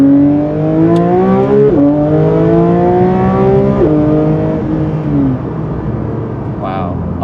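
A Porsche 992 GT3 in sport mode accelerates hard in first gear, its engine note climbing steeply in loud, close, rising sweeps that break off and restart several times before easing near the end.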